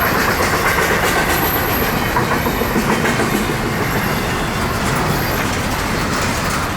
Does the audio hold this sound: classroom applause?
no